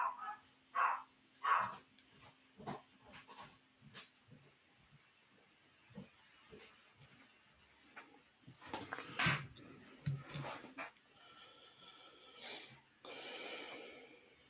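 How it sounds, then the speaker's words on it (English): An excited dog snorting, huffing and giving a few barks indoors, with heavy breathing throughout; scattered sharp bursts stand out in the first half and a noisier flurry of activity comes near the end, while faint voices are heard occasionally. "The dog went crazy."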